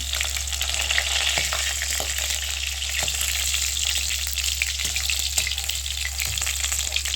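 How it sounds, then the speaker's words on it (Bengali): Rohu fish pieces frying in hot oil, a steady loud crackling sizzle up close with a low hum underneath and a few faint knocks. "দেখুন বন্ধুরা, মাছগুলি ভাজা হয়ে গেছে, এবার তুলে নেব।"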